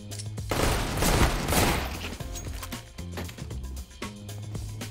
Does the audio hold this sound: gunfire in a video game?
yes